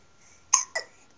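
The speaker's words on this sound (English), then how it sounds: "Do you have the hiccups?" A baby gives two quick hiccups about a quarter second apart, each a short sharp catch of breath, close and fairly clear against a quiet room.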